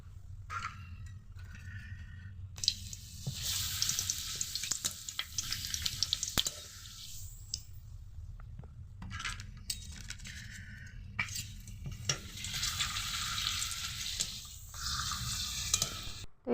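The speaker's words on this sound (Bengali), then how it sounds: "তো এদিকে দেখো পাঁপড় ভাজা হচ্ছে" Papad frying in a pan of hot oil gives a steady, close sizzle with bursts of crackling and bubbling that swell and ease over the span, with no talking.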